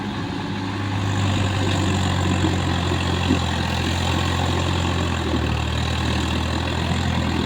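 A Swaraj tractor with a fully loaded trolley idles steadily and close by, its low engine drone holding constant throughout with no voices.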